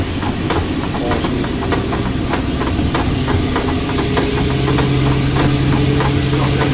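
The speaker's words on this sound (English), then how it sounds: "A few more revs, please." Diesel locomotive D1062 heard from the cab during a driver-training run, its engine a loud, continuous heavy rumble that holds steady and deepens slightly partway through, with faint rhythmic clicks and rattles riding over the drone.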